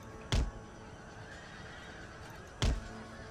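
Cavalry horses in the Empire Total War video game, two sharp loud whinnies about two seconds apart over a steady low battlefield murmur.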